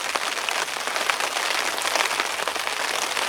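Heavy rain lashes down on a fishing bivvy at a carp fishery, a dense, steady roar of drops drumming on the fabric close by, continuous and loud with no voices.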